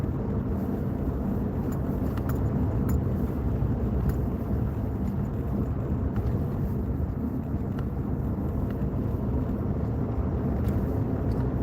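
Steady, loud road rumble from a car driving close behind a truck on a mountain pass, a continuous low drone with wind buffeting throughout and no talk.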